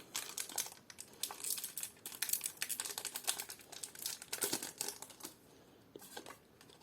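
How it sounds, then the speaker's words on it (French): Crinkly foil wrapper of a Pokémon Salarsen booster pack being fumbled and torn open, a busy run of close, sharp crackles and rustles with brief pauses, no talking over it. "On va commencer tout de suite avec un booster Salarsen. Que je galère déjà à ouvrir"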